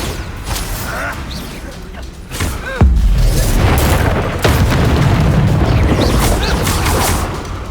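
A Bombarda spell blast in Hogwarts Legacy lands as a loud, close boom with a heavy low-end thump near the middle, followed by sustained rumbling and crackling game effects.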